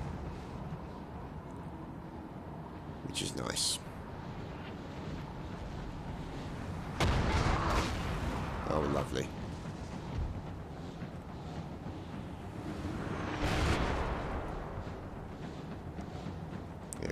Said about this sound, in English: Cannons have started firing